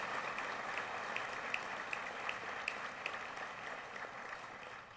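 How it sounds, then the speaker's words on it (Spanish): Steady, moderately distant applause from an audience at a formal university anniversary ceremony, a dense wash of many hands clapping for a group of students, with a few sharper claps standing out. "Fuerte aplauso para este distinguido grupo de estudiantes"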